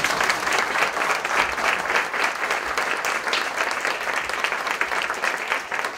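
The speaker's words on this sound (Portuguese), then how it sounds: "Palmas para a Linda" Steady, dense applause from an audience at a book launch event, continuous and fairly loud throughout with no talking over it.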